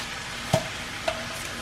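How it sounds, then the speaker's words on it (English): Onions fry in a pan with a soft, steady sizzle, heard from a little distance, broken by two brief clinks of a utensil against the pan. "you can hear my onions and stuff still frying over there"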